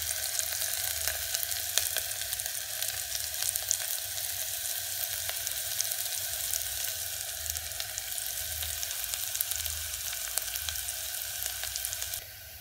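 Onion and small chillies frying in a pan for kadalai rasam, a steady close hiss and crackle that continues unbroken before cutting off abruptly at the end.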